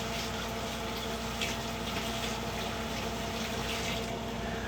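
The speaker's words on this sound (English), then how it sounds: "now I'm just gonna give this a quick rinse" Steady running water from a tap rinses something in a kitchen sink, a continuous close, even splashing rush with no pauses.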